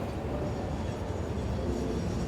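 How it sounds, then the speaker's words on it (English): A train rolls past in the factory-building video game Satisfactory, giving a steady, continuous rumble and clatter that holds an even loudness throughout, with no voices. "What's that train got on it?"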